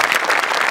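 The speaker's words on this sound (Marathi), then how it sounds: "गौरव मोरेसाठी एकदा आपण टाळ्या वाजवूया." Studio audience of a Marathi comedy show applauds for comedian Gaurav More in a short, loud, dense burst of clapping with no talk over it.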